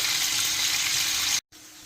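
Meat sears in a hot pan for chili, a loud steady broadband sizzle close up that cuts out abruptly near the end, then resumes more quietly.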